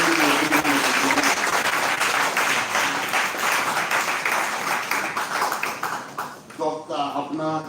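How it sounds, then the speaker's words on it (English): Loud, sustained applause from a conference audience fills the room, dense clapping holding steady before thinning toward the end, where a voice speaks over the last claps. "Please let's give him a big round of applause"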